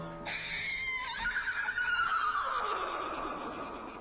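A person on stage imitates a horse neighing: a loud, close whinny with a falling, wavering pitch that sustains for several seconds with no talk over it.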